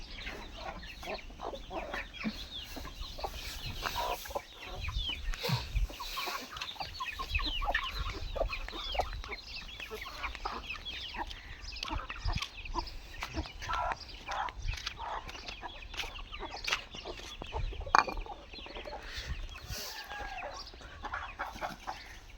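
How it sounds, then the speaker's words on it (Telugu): Farm chickens clucking and calling near buffaloes, a steady scattered chorus of fowl sounds at moderate distance, with no talk. "మాకున్న కోళ్ళు ఇవే అనమాట ప్రజెంట్గా"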